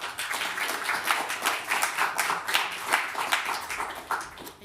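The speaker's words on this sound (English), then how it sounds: "give them a round of applause" Audience applause for three speakers at a talk on measuring difficult things: a steady, dense patter of clapping from a modest crowd, sustained for several seconds and fairly close.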